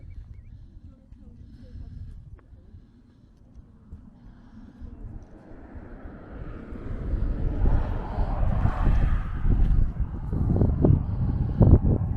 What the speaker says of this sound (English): So it's definitely a 6-cylinder twin turbo Ineos Grenadier.